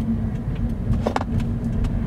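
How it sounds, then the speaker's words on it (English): A manual transmission car being driven and downshifted gives a steady, low engine drone inside the cabin, with a few faint clicks and rattles over it. "I'm gonna downshift."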